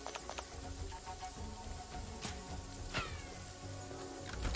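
Rain falls at night in the video game Jagged Alliance 3, a faint, steady wash of patter with a few brighter drop ticks and low rumble underneath, no voices.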